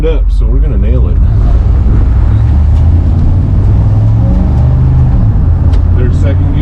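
A car with a 4L60E automatic transmission fitted with a Sonnax Performance Pack shift kit accelerates hard, its loud engine drone climbing and dropping as it shifts through the gears, with people talking and exclaiming over it from inside the car.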